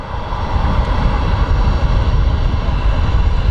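A Ryanair airliner roars steadily on its departure from a Manchester Airport runway, a loud, continuous engine rumble heard close with no break throughout.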